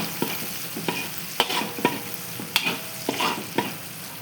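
Onion and garlic fry with curry leaves in a pan, a steady sizzle broken by regular scraping stirs of a spoon, close and alone.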